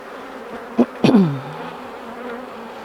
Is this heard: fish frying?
no